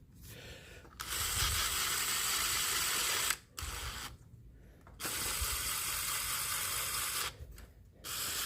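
Impact driver set very low running down sump gasket bolts on a Briggs and Stratton 27 hp V-twin crankcase, heard as several bursts of rapid rattling hammering, separated by brief pauses, close and moderately loud.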